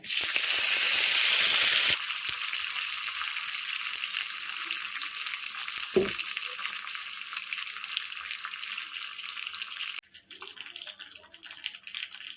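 Cumin seeds and curry leaves hit hot oil for a tempering, giving a loud, steady sizzle that drops slightly in intensity, with a brief clatter midway and a softer crackle toward the end.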